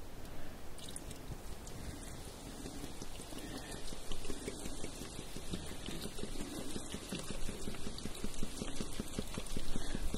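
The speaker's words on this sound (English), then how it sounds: "I'm just going to boil these fish" Pike fish boil in lemon-lime soda pop over a wilderness cooking fire, a steady dense crackle of bubbling and popping fizz that grows slightly louder and busier toward the end, close by, with no talking.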